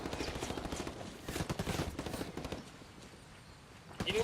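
Gunfire in Ghost Recon Wildlands PVP mode, with a dense clatter of shots and bursts in rapid bursts at moderate loudness, strongest midway, with a brief sharper report near the end.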